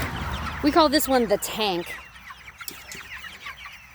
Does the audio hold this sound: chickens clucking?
yes